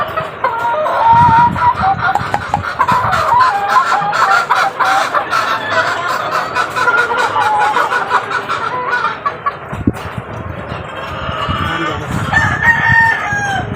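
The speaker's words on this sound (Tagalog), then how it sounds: "sa aking mga alagang manok" Pet white hatch chickens on a rainy morning: loud, close clucking throughout with roosters crowing repeatedly, several long crows overlapping, plus faint human voice in the background.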